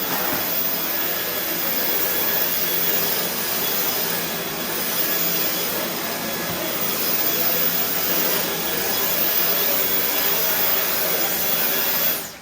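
A Dyson V10 Animal cordless vacuum cleaner runs steadily at close range over carpet, giving a continuous loud whooshing roar with a high whine that holds for the whole stretch and cuts off at the end.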